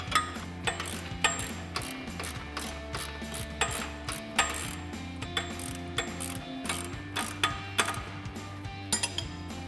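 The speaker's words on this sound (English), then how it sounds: "we're going to grab a 21mm socket and a 13/16 wrench or a 21mm wrench" A 21mm socket wrench loosens the top nut and bolt of a front track bar on a Jeep Gladiator JT, its ratchet clicking steadily and rapidly up close in continuous runs with faint metallic clinks and no talk.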